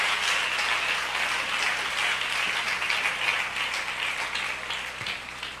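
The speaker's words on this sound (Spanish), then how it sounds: "Dale un aplauso a Jesús en esta tarde" A church congregation applauds during a sermon, giving a dense, steady wash of many hands clapping at a moderate distance that tapers slightly at the end.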